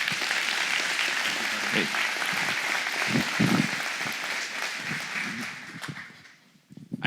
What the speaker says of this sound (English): I think that round of applause was for my parents